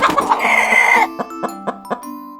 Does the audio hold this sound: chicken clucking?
yes